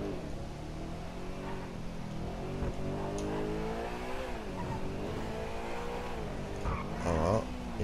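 Interior engine sound of a Pegassi Toros in GTA Online, a steady revving drone that rises and falls with gear changes and closes with a brief louder burst, with no talking.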